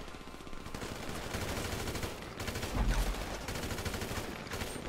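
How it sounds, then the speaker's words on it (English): Gunfire in GTA Online, sustained rapid automatic bursts rattling on with heavier booming hits midway, fairly close and continuous. "I shot you through a big metal trailer."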